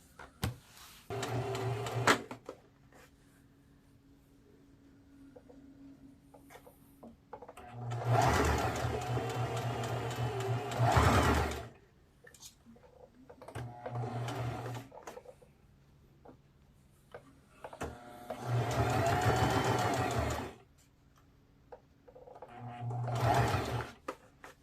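A sewing machine stitches the seams of a dress without a pattern, running in four or five close, loud bursts of steady whirring with quiet pauses between, alone with no talking.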